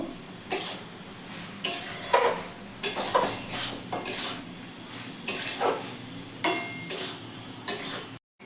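Banana flower curry with prawns being stirred in a pan: a spoon scrapes and clanks against the metal in a steady rhythm, about ten distinct strokes close by, with faint cooking sizzle underneath and no talking.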